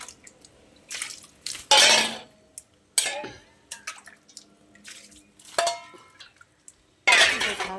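A metal pot clatters and knocks as it is handled to heat milk in a home kitchen, with several sharp clanks and scrapes in irregular bursts, close and fairly loud, with no talking.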